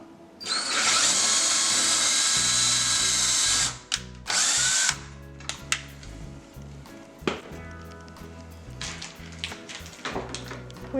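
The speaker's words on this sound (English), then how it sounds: "Just drilling holes in the cabinets, huh?" A power drill whines loudly for several seconds drilling holes in cabinets, stops, spins briefly again, then gives way to clattering and knocking of tools nearby.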